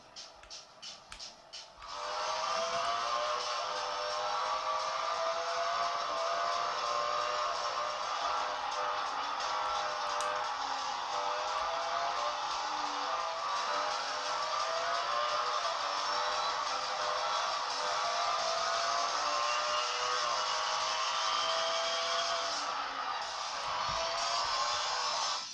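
Race car engines from Real Racing 3, played on an Android tablet, drone continuously as tones climb and fall with each rev and gear change, steady in level with no voices.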